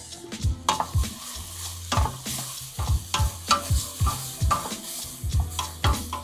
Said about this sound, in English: All right, stir again.